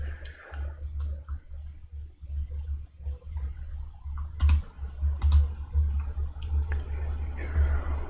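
Rapid clicking of keys on a computer keyboard during a live coding stream, close and uneven, with bursts of heavier presses amid soft background noise.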